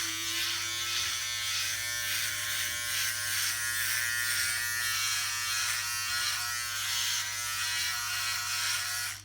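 A Philips OneBlade electric razor hums steadily while shaving a beard, a close, continuous buzz with slight rhythmic rasping as it passes over the stubble.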